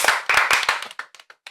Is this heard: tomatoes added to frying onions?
no